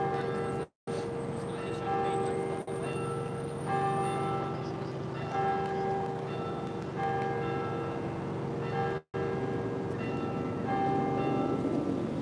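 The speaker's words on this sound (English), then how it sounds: "Bells are ringing. I don't know if you can hear the bells ringing." Church bells of St. Patrick's Cathedral in New York City ring steadily, their sustained tones overlapping and filling the air, with a couple of brief dropouts.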